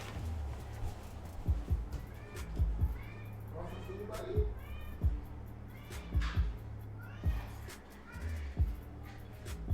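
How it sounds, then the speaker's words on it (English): A house cat meows for food, several drawn-out cries repeating at close range over a steady low hum and faint background sounds. "My cat desires food!"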